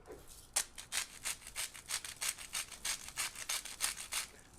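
Hand-cranked salt grinder turned in a long run of rapid, rhythmic gritty crunches, about three per second, close and clear with no talking.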